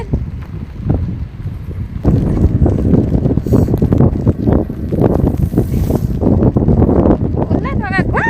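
Blustery wind roars across the microphone on a cold, rainy day in Holland, a steady rush that thickens after the first couple of seconds, with someone talking over it.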